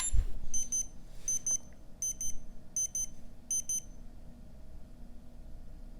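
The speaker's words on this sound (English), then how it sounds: "What's beeping?" Electronic alarm from a homemade electric skateboard's electronics or charger beeps in five evenly spaced double-pulse groups, sharp and close, then stops, leaving faint background noise.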